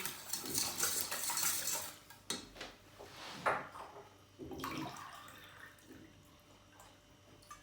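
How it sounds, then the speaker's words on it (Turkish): Egg yolk whisked into a yogurt mixture in a bowl for bulgur soup, with busy metal utensil scraping and clinking against the bowl, fairly close, then tapering into lighter rustling and a few knocks. "Şimdi bunu çırpmaya devam ediyoruz."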